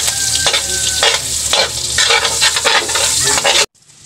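Ricado sautéing in rendered pork fat: loud, close sizzling with frequent scraping stirs that keep the hiss surging, then the sound cuts off abruptly near the end.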